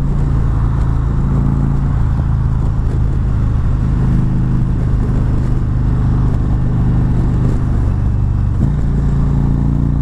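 A 2019 Indian Chieftain motorcycle engine drones loud and close for about ten seconds, a steady low rumble with slight rises in pitch as it revs, heard alone without talk.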